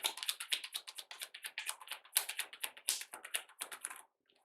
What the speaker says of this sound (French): quand je brasse les cartes